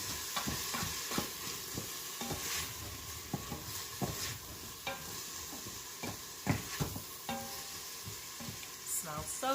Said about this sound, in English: give it a stir so that it becomes fragrant